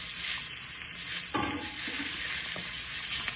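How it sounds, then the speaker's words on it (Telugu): Sliced beans, green chilli, carrot, peas and cabbage fry in hot oil for chicken fried rice, a steady close sizzle with a sharp stirring scrape near the middle and a few lighter clinks after. "ఇప్పుడు ఇవి మొత్తం ఎర్రగా వేగే వరకు వేపుకోవాలి"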